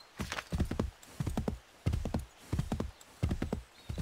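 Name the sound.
horse hooves in video game Assassin's Creed III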